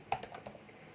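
Code being typed on a computer keyboard: a quick, faint run of a few keystroke clicks. It fades into quiet at the end, with no talk.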